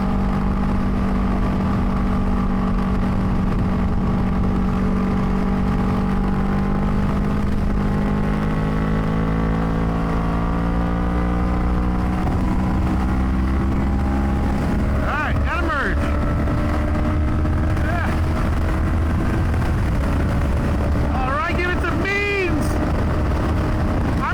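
A Yamaha YZF-R3 sport bike engine hums at a steady high pitch cruising at about 75 mph and 8,000 rpm, loud and continuous under heavy wind rush, with a faint rising whine near the end.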